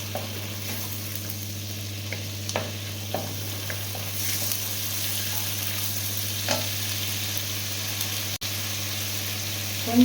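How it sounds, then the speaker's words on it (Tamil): Ginger garlic paste frying in a pan, a steady close sizzle with occasional faint stirring taps, a low constant hum underneath and a short dropout near the end. "இப்போ இஞ்சி பூண்டு பேஸ்ட்டு போட்டுக்கலாம். பச்சை வாசனை போகிற வரைக்கும் இதை ஃப்ரை பண்ணணும்."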